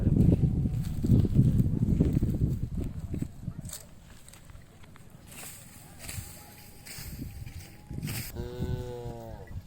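Voices and crowd noise at the Kyamenahalli village fair fill most of the clip, then a Hallikar bullock lets out a single deep low near the end.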